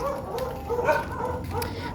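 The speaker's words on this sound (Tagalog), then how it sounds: "Nag-iingay yung mga aso." Several dogs bark and yip at night among neighborhood houses, a steady chorus at moderate distance over a low background hum.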